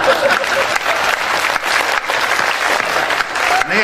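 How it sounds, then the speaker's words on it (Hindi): An audience at a kavi sammelan comedy poetry recital applauds, dense sustained clapping that stays loud and even for several seconds with a crowd murmur beneath. "2-3 लोग ताली बजाइए"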